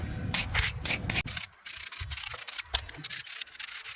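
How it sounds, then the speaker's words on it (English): Rust being scrubbed off the earth bolt of a 1979 Cadillac Seville, heard as close, loud, rapid back-and-forth abrasive rubbing strokes with brief pauses between bursts. "This is the earth bolts. I'm just going to clean the rust off of it."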